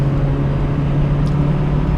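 A 1992 Geo Tracker engine pulling hard through the gears, a loud, steady drone with a strong low hum held close throughout.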